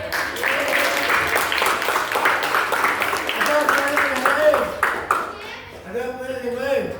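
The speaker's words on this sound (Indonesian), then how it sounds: "Tepuk tangan." Students applaud in a classroom after a question during a program explanation, with scattered hand claps mixed under overlapping chatter and voices throughout.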